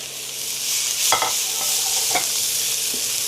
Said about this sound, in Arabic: البيت كله هيصحى على صوت الطشه دلوقتي.